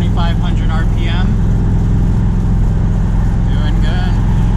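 A 1979 Corvette engine drones steadily at around 2,500 RPM while cruising on the freeway, loud and close with constant road and wind roar, as someone talks over it inside the cabin.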